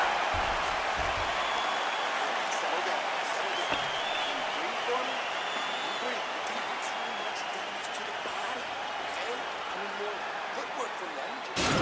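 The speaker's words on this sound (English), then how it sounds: "the crowd voicing its appreciation after that crazy sequence in the previous round" A virtual arena crowd at a UFC 4 fight cheers and applauds between rounds, a broad, sustained roar of clapping and crowd noise that holds steady throughout before a sudden burst at the end.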